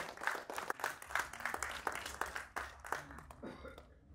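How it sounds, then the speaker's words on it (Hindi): An audience at a film trailer launch claps for Shubham Vyas taking the stage, a scattered, moderately faint burst of applause with individual claps audible that thins out and stops near the end. "जोरदार तालियां शुभम व्यास के लिए"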